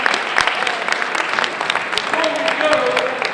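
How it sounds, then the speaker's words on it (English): Audience applause for a group of candidates at a Toronto-Danforth election event, steady clapping from a crowd of moderate size, heard close and filling the whole clip. "How about a great round of applause for all of them tonight?"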